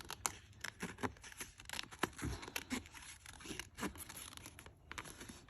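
Scissors snipping flowers out of glossy magazine pages, with rapid irregular paper cuts, crinkles and small tears close up and moderately quiet, no talking.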